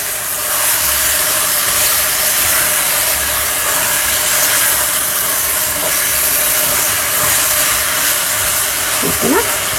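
Mutton with ginger and onions sizzling in a pan on high stove heat, a loud, steady, broad hiss as the water cooks off, continuous throughout with faint stirring touches near the end.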